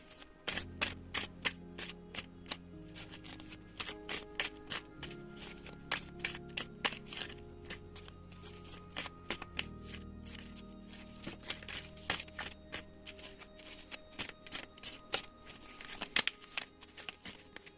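Tarot cards are shuffled by hand in quick bursts of crisp riffling and flicking, with repeated sharp card snaps and soft shuffles close up, pausing briefly between runs, with no voices.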